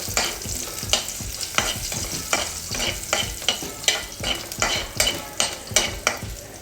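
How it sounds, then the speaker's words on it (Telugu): Cashews frying with green chillies in a pan, stirred in a steady rhythm of scraping strokes over a constant crackling sizzle, close and fairly loud. "ఇందులోకి మనం కొన్ని క్యాష్యూస్ యాడ్ చేసుకుందాము. క్యాష్యూస్ కొంచెం ఫ్రై అవ్వాలి."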